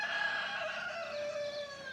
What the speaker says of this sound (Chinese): 听着鸡叫